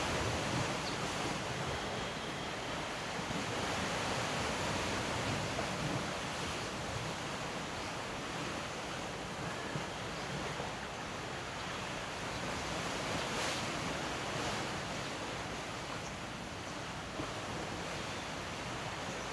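Ocean surf breaks along a beach beside an outdoor yoga session, a steady, moderately loud wash of foamy noise with gentle swells and a touch of wind, no voices.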